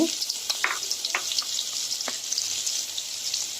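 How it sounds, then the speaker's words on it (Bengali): Chopped onions and green chili fry in a hot pan with a steady, bright sizzle, broken by a few soft clinks and stirring scrapes close by. "কাঁচামরিচ কুচি দিয়ে এটাকে কিছুক্ষণ ভেজে নেব"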